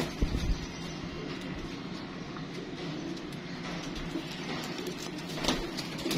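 Pigeons give faint low coos against a steady background rumble, with a couple of brief knocks near the start and end.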